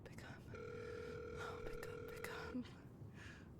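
A phone rings through a handset during a late-night call, a steady electronic tone lasting about two seconds, heard close against faint background noise.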